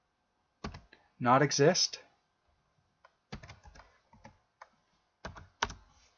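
Keys on a computer keyboard are typed in a few short, close bursts of clicks, separated by pauses, while a voice talks between and over them.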